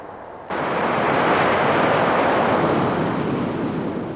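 Surf breaking on Chesil Beach, a long pebble beach near Weymouth, rises at about half a second into a loud, sustained wash of crashing waves and churning shingle that roars on without pause, with wind buffeting the microphone.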